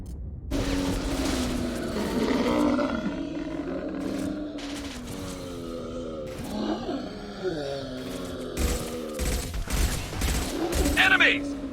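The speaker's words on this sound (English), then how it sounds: "Firing a high impact shot!" Weapon fire in the video game Mass Effect 2 comes as bursts of gunfire and heavy impact blasts over a droning engine-like hum and game effects, loud throughout with dense strikes toward the end.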